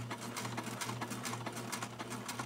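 A sewing machine runs slowly and steadily, stitching a 3/8-inch seam along a curve on a fabric doll, with a continuous mechanical hum and a quick repeating needle patter, close up and with no voices.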